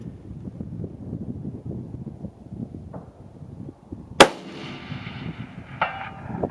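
A rifle fitted with a 4-14x44 FFP scope fires at a 400-yard target outdoors: quiet wind rumble first, then one loud, sharp report that rings out and decays, followed by a fainter second crack.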